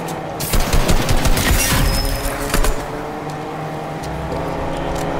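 Rapid bursts of gunfire aimed at a car's tires in the Fortnite video game, loud and close for about two seconds, then fading into a continuous vehicle engine rumble.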